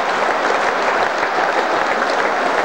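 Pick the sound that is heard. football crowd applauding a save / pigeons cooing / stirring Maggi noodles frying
football crowd applauding a save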